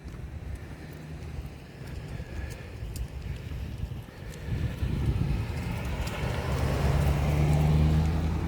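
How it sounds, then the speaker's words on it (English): A car passes outdoors on a sunny day, its steady road rumble swelling from a faint approach to a louder, close pass over the second half, with no speech. "car driving by, the sounds, nice sunny day"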